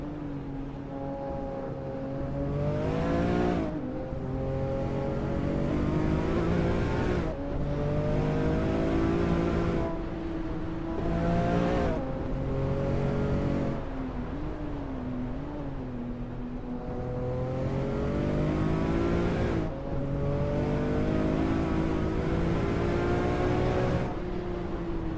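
A race car engine at Le Mans in Assetto Corsa, heard through the Dunlop Curve and on toward Tertre Rouge, revs up repeatedly and drops with each gear shift, a loud and continuous rising and falling whine with no talk.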